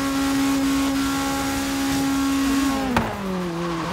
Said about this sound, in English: Redlining FD hit that speed boost makes your car sound so weird